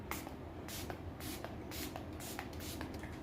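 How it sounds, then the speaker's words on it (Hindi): Makeup fixer mist is sprayed onto a face in several short, soft hissing bursts, quiet and close, spaced evenly apart with nothing else over them. "तो आपको सिर्फ 2-3 स्प्रे ही करने अपने फेस के ऊपर।"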